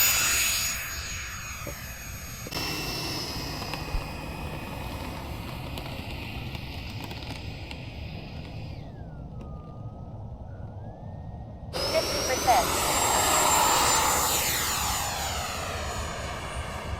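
A Freewing F-16 model jet with a 90mm electric ducted fan and AS3X+ flies at a model airfield, its steady loud whine shifting in pitch as it passes, with no voices.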